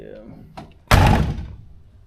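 A car door on a 1962 Chevrolet Impala SS closes with one heavy, solid thunk, preceded by soft handling noises and followed by a brief decaying rattle.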